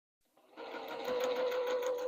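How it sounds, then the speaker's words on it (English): A sewing machine starts up and runs steadily, stitching a quarter-inch seam on a quilt block, its close, even mechanical whir rising quickly from silence and holding a rapid rhythmic pulse. "I'm going to start sewing using a 1/4 inch seam"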